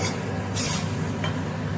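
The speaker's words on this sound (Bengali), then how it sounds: "গ্যাসের ফ্লেমটা লোতে রেখেই সুজিটা হালকা করে নাড়তে হবে।" Semolina stirred gently in a pan over a low gas flame, with a few soft, brief scraping sweeps against a quiet background.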